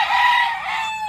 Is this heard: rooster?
yes